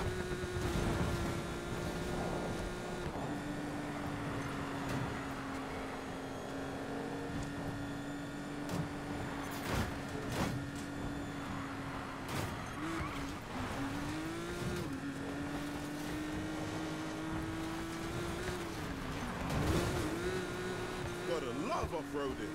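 Cars race off-road in Need For Speed Payback, a steady droning engine whine with rising and falling revs, occasional tire noise and sharp impacts, continuing for over twenty seconds with a voice talking at times.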